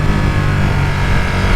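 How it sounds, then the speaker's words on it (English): A 2019 Ducati Panigale 959 Corse sportbike with its stock exhaust, the engine giving a loud, close, brief low rumble at a steady pitch with no talking over it. "Ducati engine is a great engine."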